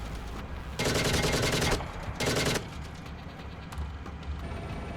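Gunfire from tanks and infantry in a video game, two rapid bursts of machine-gun fire, the first about a second long and the second shorter, loud and close over a low engine rumble, with no voices.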